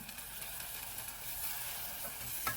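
Chopped tomatoes sauté in a pan for Mumbai street-style pav bhaji, giving a faint continuous sizzling hiss with light stirring, steady and soft, with no voices.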